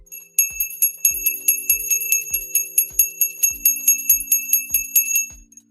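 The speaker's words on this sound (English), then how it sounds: "So there's the bell being rang." A bell is struck repeatedly in a steady rhythm, about twenty bright, ringing strikes with a few slightly changing pitches, each decaying quickly. It is loud and close with no voices.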